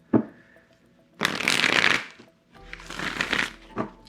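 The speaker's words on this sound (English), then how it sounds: "One more shuffle here for you, Taurus." A deck of tarot cards shuffled in bursts, with two long riffling rustles separated by short pauses and a few faint taps, fairly close and with no talking.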